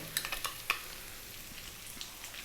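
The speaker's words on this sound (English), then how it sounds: "Let's just throw that garlic and ginger around. It's really going to infuse that oil." Garlic and ginger fry in oil on maximum heat for pork fried rice, a quiet continuous sizzle with a few quick stirring clicks at the start, close and faint, no talking.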